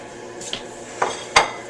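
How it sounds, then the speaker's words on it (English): A plate is set out for steak in an outdoor kitchen, with a few short ceramic clinks and knocks, the last one the loudest, close by and with no talking. "Alright, so, get my plate ready."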